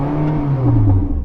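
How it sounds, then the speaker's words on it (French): A Porsche 918 Spyder hypercar revs its engine, with a steady loud rising engine note and strong low harmonics climbing in pitch, heard close and without talk. "Je vais donc faire monter les régimes de ma Porsche."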